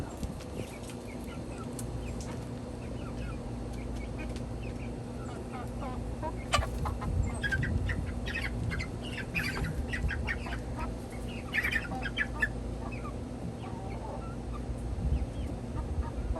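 A flock of chickens squawking and clucking as they peck at one another, with steady close squabbling over a constant background hum and faint voices now and then.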